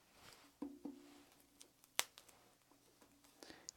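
Scissors snipping a V into AquaCast cast padding, a few quiet close cuts with one sharper snap, scattered over low background noise.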